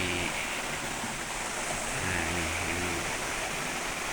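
A river runs along a stream at a fishing spot, giving a steady, close rushing wash of water that fills the whole stretch, with a voice briefly heard over it.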